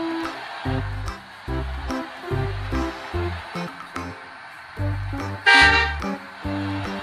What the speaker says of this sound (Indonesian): Kita klakson, dia langsung berhenti guys.